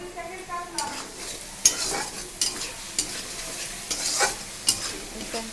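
Onion, garlic and ginger paste with tomato frying in a pan, stirred with a steady sizzle and intermittent scraping strokes of the spatula, close and clear, with no talk.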